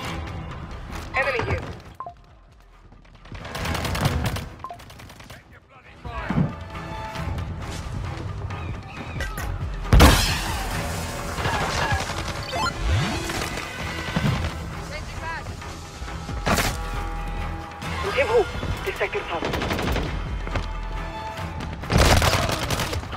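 Gunfire from the mobile shooter game Warzone Mobile comes as sharp bursts and thuds in a busy battle mix with loud booms, while a player's voice and game voices talk over it.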